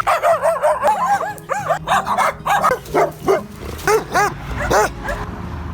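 Several dogs bark and yip in quick, uneven bursts close by, with whimpering yelps mixed in and a faint voice underneath.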